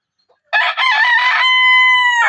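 A chicken from a group of brood hens gives one loud, close crow after a short silence, starting with rough clucking notes and then holding a long, drawn-out tone.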